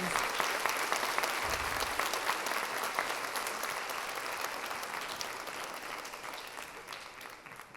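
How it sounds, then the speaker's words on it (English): An audience claps steadily at a summer festival queen pageant, a dense, sustained round of applause that fades slightly toward the end. "Let's give those ladies a big round of applause for those introductions."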